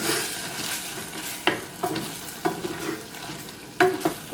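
Chicken is stirred in a frying pan as it sizzles dry, with a steady frying hiss broken by several sharp scrapes and clanks of a spoon against the pan.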